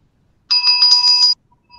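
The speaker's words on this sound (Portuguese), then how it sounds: "Eu acho que essa foi a tocada mais triste que esse sino já deu" A single bright bell stroke rings out clearly with a short, slightly wavering tone lasting under a second, then cuts off into silence.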